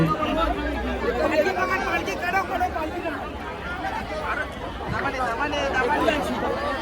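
A dense crowd chatters steadily at the Ekvira palanquin procession in Airoli Diva village, many voices overlapping into a continuous close hubbub with no pause.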